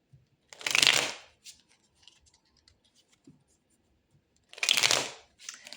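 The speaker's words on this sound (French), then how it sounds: "Je vais aller tirer 5 cartes avec ce jeu." Tarot cards being shuffled and drawn, two distinct bursts of brisk riffling papery flutter separated by a quiet stretch with faint small handling noises.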